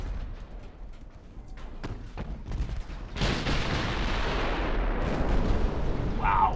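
14-inch battleship guns fire in the naval strategy game Ultimate Admiral Dreadnoughts: a run of heavy booms gives way to a loud, sustained rumbling roar, and a person briefly exclaims.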